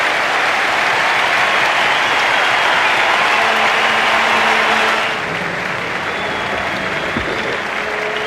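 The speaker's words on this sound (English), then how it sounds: "The crowd are actually booing the dismissal of Tom Moody after a magnificent 89." Stadium crowd at a Gabba cricket match between Australia and Pakistan reacting to a dismissal, a loud sustained roar of mixed clapping and booing that eases slightly partway through.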